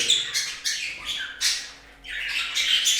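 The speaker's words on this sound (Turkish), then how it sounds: "o uçtuğu zaman diğer kuşlar da hemen bağırmaya başlıyorlar" Several budgerigars and finches squawk loudly and harshly in quick repeated bursts in an indoor bird room, close at hand, with a brief lull before the calls resume.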